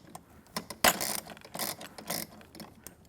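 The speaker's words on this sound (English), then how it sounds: "I'm going to press it all the way up there and tighten the bolt to make sure it stays in" Ratchet wrench tightening a bolt on the metal frame of a studio reformer, heard as several rapid clicking pawl bursts with short pauses between strokes, close and clear, no talking over it.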